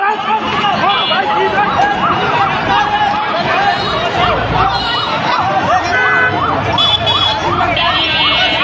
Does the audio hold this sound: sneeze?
no